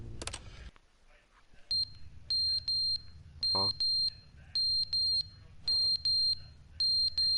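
A fire alarm in a game sounds repeated shrill electronic beeps in a steady on-off rhythm, loud and close, after a brief spoken interjection at the start.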